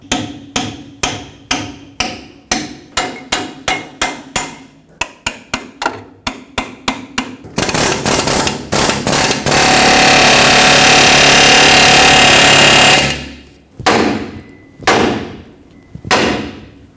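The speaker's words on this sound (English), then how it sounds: "so I'm gonna have to use a hammer and get all of this apart" Metal-on-metal hammer blows ring out on a pickle fork in a fast, regular series while separating a track bar ball joint on a 2011-2016 Ford F-350, then a loud whirring power-tool burst, followed by a few more hard strikes.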